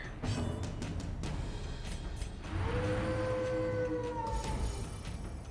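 In Darkest Dungeon, a character uses the Howl at the Moon skill: a drawn-out, wavering howl rising and gliding over a dark, rumbling game backdrop, with sharp percussive hits before it.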